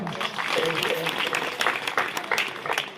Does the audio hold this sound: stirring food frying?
no